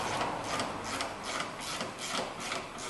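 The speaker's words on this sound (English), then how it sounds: "You just hold the bolt in the back, and you take this nut all the way off." Brake nut on a 2010 Kia Rondo being unscrewed by hand from its bolt, a close, quiet, rhythmic scraping and rubbing of metal threads repeating several times a second, with no talk.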